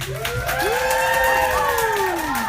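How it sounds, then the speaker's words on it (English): An audience at a Native youth performance in San Francisco breaks into a steady round of applause, with whoops and cheers rising above the clapping throughout. "Let's give them a round of applause"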